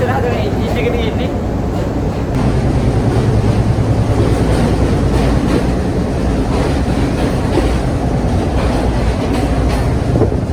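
Calypso special train runs on the scenic Badulla–Ella line, a loud continuous rumble of carriages with rhythmic wheel clatter throughout, heard close from on board, with voices speaking over it.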